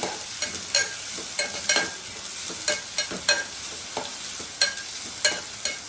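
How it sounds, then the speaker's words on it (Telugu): Sliced onions fry in a pan for a potato kurma, with a steady sizzle cut by repeated scraping stir strokes in an irregular rhythm, close and moderately loud. "ఇప్పుడైతే ఈ ఉల్లిపాయలు త్వరగా వేగడానికి కొంచెం సాల్ట్ వేస్తున్నాను"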